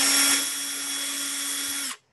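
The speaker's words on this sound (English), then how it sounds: "this is just a 1/8 inch bit on my drill" A power drill with a 1/8 inch bit bores through a resin earring, giving a steady high whine for about two seconds that stops abruptly, close and alone.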